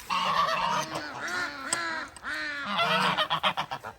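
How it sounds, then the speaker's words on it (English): Several rescued geese at a mountain farm animal sanctuary honk loudly and close by, calls overlapping in a noisy, near-continuous chorus that breaks into quicker choppy honks toward the end. "So these are our rescued geese. They have a whole lot to say today."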